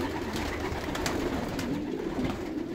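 Pigeons coo softly in a loft as females fly into the males' compartment, a steady low murmur of cooing with faint flutters, fairly quiet and with no voices.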